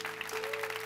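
A church congregation claps in a quick, dense burst of applause, with a steady sustained tone running underneath.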